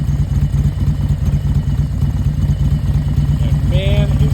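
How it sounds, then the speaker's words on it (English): A 2018 Harley-Davidson Road Glide S with a 2-into-1 exhaust idles close by, giving a loud, steady, loping low rumble, with a short squeak near the end. "You can listen to this motorcycle."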